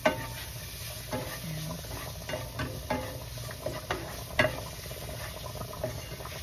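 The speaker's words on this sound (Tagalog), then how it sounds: "So, once na nalito yan, yung yung onion, yung garlic" Onion and garlic sautéing in olive oil in a pan, a faint steady sizzle with occasional scraping stirs and small clinks, close and quiet, no speech.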